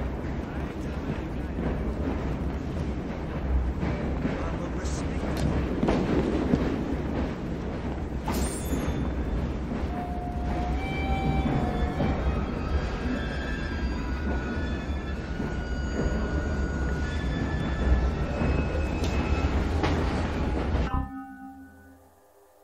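A train ride in Assassin's Creed Syndicate: a steady rumble of rolling wagons and clattering wheels under occasional metallic squeals and tones, ending abruptly near the close.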